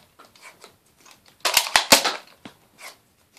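A Nerf blaster loaded with modulus darts fires in a quick string of sharp, snappy pops, three loud and close together followed by a fainter one, among light handling clicks.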